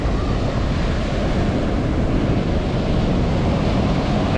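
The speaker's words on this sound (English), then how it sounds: "an angry Atlantic Ocean in Delaware" Rough Atlantic Ocean surf at a Delaware seashore beach campground, a steady loud roar of breaking waves mixed with heavy wind buffeting the microphone, continuous and close with no pauses.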